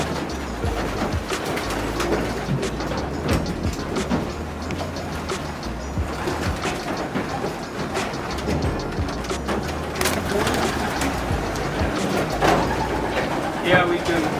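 Racing pigeons cooing inside a California loft, soft repeated low coos and wing flutters beneath someone talking throughout, with a steady low rumble in the background.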